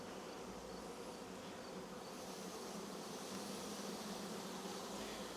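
A honey bee swarm drones in a dense, continuous buzz during a hive inspection, a low, even hum from many bees that stays steady and fairly faint throughout.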